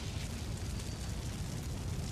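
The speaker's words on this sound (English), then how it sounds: "Enemy AC destroyed." An enemy AC mech explodes in the Armored Core VI video game, a dense, steady roar of blast rumble that fills the whole moment at moderate volume with no voices over it.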